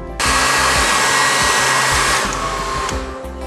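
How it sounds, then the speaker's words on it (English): A hair dryer switches on and blows continuously, heating a refrigerator water dispenser line, a loud close whooshing hum with a steady motor whine, no voices. "heat this up with a little my wife's hair dryer"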